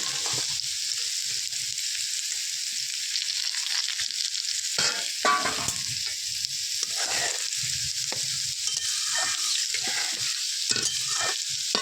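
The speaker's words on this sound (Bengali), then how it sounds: "একটু সরিষার তেল, আমি কাঁকড়াগুলোকে জ্বালিয়ে নেব।" Crabs fried in mustard oil in a village-style Bengali kitchen, a steady bright sizzle throughout with repeated stirring scrapes and clatters, close and loud with no talk.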